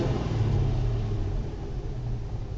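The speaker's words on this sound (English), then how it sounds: "actually the car's running now on idle, right, as you can see. Now if I rev it" A car engine rumbles at idle, then the revs climb slightly and settle in a low, steady drone close by, with no talk.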